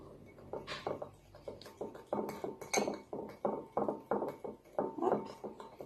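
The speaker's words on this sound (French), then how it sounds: "Allez, on remue." A spoon stirring healthy bowl cake batter in a bowl, giving repeated rhythmic clinks and scrapes against the bowl, close and fairly quiet, with no talk.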